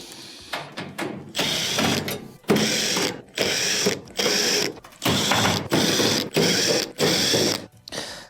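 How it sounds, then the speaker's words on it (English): Phillips screws are backed out of the upper rear panel of an electric range, heard as about seven close, mechanical whirring bursts from a driver, each roughly half a second long with short pauses between them. "There are multiple Phillips screws around it that'll have to be taken out."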